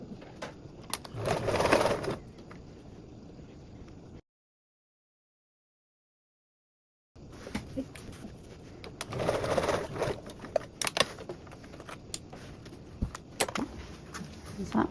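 A sewing machine basting the panels of a duffle bag with a narrow seam, running in bursts of rapid stitching with a clear pause in the middle and a light clatter between runs.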